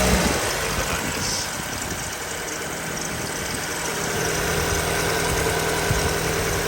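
A Ford Focus ST170 engine idles steadily up close, a continuous low mechanical hum with a faint knocking vibration and no voices over it.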